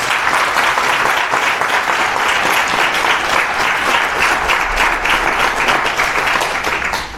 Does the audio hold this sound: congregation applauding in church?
yes